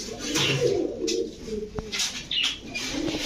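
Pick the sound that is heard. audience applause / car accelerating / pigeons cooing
pigeons cooing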